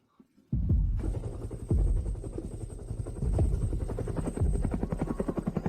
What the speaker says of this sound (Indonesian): Siapa yang pamer masuk dengan helikopter militer ke rumah sakit?